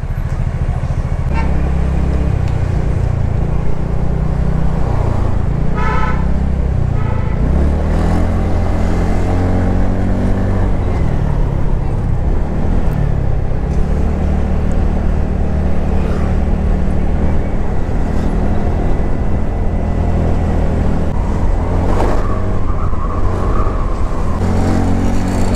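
TVS Ntorq 125 scooter ridden through road traffic, its engine droning loud and steady throughout with shifting pitch as it speeds up and slows, surrounded by other passing vehicles and wind.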